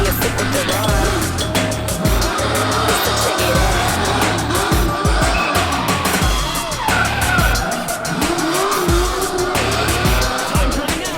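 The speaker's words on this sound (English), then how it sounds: "The American muscle car was then put to work at the bottom of the course as he attacked the bollard twice, got the car sideways through the angle box" An American muscle car drifts sideways through a drift course around a bollard and angle box, its engine roaring loud and steady while the tires squeal continuously throughout.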